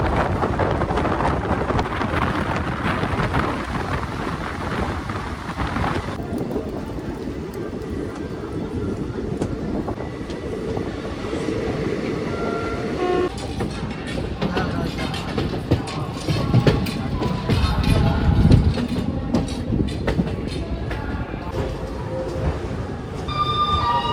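Netaji Express running at about 190 km/h, its steady broadband rumble and rattle continuous throughout, heard from inside the coach, with a brief shift in tone partway through.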